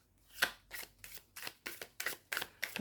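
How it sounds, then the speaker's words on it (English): A Fairy Tarot deck by Lo Scarabeo being shuffled by hand, with about nine quick, crisp riffles of card against card in a steady rhythm, close and fairly quiet, with no talking. "They do shuffle nicely."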